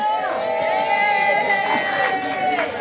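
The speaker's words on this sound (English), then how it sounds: "A very rowdy crowd here" A rowdy party crowd at a Fiesta 2024 gathering in a bar's VIP section, with dense overlapping shouts, chatter and whoops held at a steady loud level throughout.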